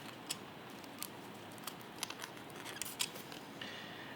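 Scissors snip off leftover scrap in a run of faint, crisp, irregular cuts, each a short sharp click, set against a quiet steady hiss.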